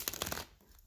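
A deck of tarot cards is riffled in a quick burst of crisp, close fluttering snaps that stops after about half a second, leaving quiet.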